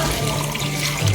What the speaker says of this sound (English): put some water in them